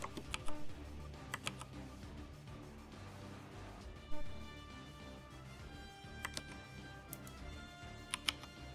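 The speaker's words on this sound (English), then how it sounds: "I'm just gonna like type it out here" A computer keyboard is typed on in quick, irregular bursts of light clicks and taps, close by and fairly quiet, with a few louder key strikes and no talking.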